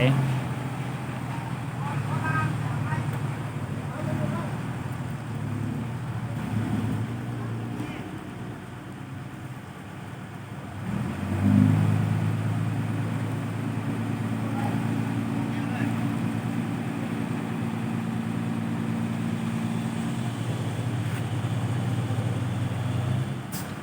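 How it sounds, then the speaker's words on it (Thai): A tractor's steady low engine drone runs throughout, rising briefly midway, with a voice speaking over it. "มาขับเจ้ารถ รถไถนะฮะรถไถ"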